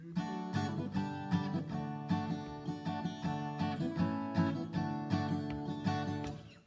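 Steady guitar strumming of the opening two bars of the tune Over the Waterfall, chords changing every couple of beats in an even rhythm, close and moderately quiet with no talking.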